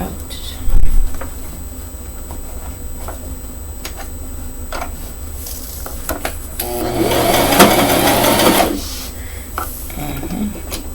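A sewing machine stitching pleats on a pink frock runs in a brief steady whir for about two seconds midway, framed by quieter handling clicks and a soft thump near the start.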